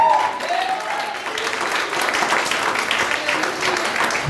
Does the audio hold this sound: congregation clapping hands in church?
yes